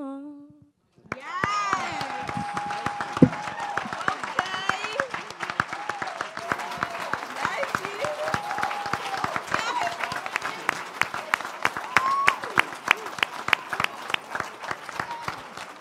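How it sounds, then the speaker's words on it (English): Audience clapping breaks out after a talk on adverse childhood experiences, sharp individual claps quickly building into sustained, rhythmic applause with crowd voices and cheers mixed in. "So another round of applause for these really amazing, wonderful, brave young people."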